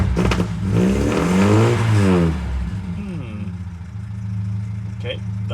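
Engine revving through a straight pipe exhaust with no muffler, a loud raw rise and fall in pitch followed by a rough idle, close by, with a person talking over part of it.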